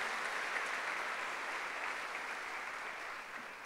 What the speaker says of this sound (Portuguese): Dá um aplauso bem bonito para Ele.